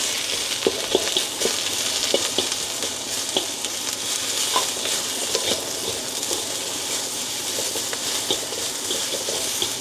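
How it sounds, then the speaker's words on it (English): Longhorn red peppers and onions stir-frying in a hot wok for a seafood stir-fry, a loud, crackling sizzle broken by frequent scraping and tossing clatters, no speech. "we've got our longhorn red peppers and our onions. Let's get them in."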